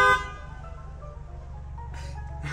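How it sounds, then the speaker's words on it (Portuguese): A car horn blares in a long steady honk, loud and close, then cuts off, leaving an engine idling with a brief second toot near the end. "porque é a mesma buzina do Léo."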